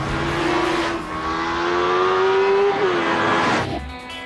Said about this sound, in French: J'adore piloter le T-Rex.